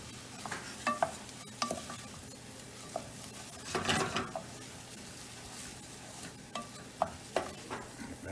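Rice stirred in melted butter in a pan for pilaf: gentle sizzling under intermittent scraping and stirring strokes, with a few light utensil clicks, close and fairly quiet, no talking.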